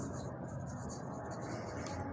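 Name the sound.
writing the total on a board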